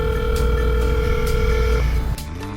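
A telephone rings on a call, with a steady electronic ringing tone held over a low background hum that shifts abruptly near the end.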